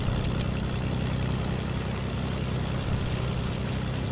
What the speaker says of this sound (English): I hear plane.